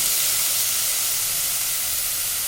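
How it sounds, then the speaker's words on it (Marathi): Tomato puree hitting a hot pan for dal khichdi, a loud continuous steamy hiss and sizzle, even and close, with no talking. "टॅमॅटो प्युरी केली ती आपण ती टाकूया"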